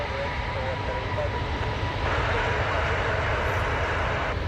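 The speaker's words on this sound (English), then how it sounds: "TAP Air Portugal is off to Lisbon on an A321neo." A TAP Air Portugal Airbus A321neo takes off at Toronto Pearson at night with a loud, sustained engine roar that swells slightly partway through. Talk runs faintly underneath.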